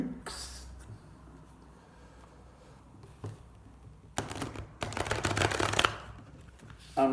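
A Tarot Grand Luxe card deck is shuffled close by, with a brief riffle early on, then a longer, louder burst of crisp card flutter near the end.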